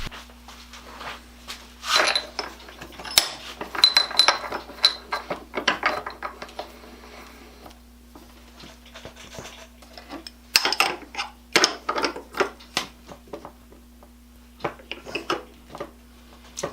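Robo Grip pliers clamp onto a round metal rod on a workbench, giving scattered close metallic clicks, ratcheting ticks and clanks in irregular bursts with quiet pauses between, over a steady low hum.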